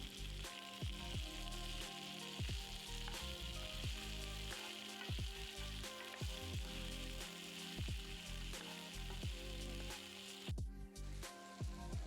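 Sliced okra (ladyfinger) fries and sizzles in a pan for a Marathi-style vegetable dish, with a steady close crackle broken by repeated soft stirring or scraping strokes throughout, and no talking.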